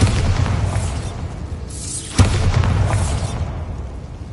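Bombarda blast spell in Hogwarts Legacy, a loud booming burst that swells and then drops into a rumbling tail, with a sharp crack just after the two-second mark and the roar fading to a low wash.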